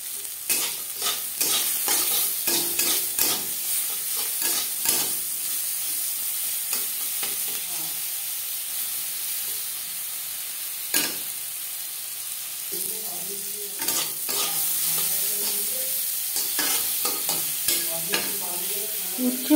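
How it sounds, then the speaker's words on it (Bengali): Bitter gourd frying in oil in a pan, with a steady sizzle and repeated scraping strokes of a spatula stirring, and a voice speaking briefly over it later. "উচ্ছে প্রায় ভাজা হয়ে এসছে।"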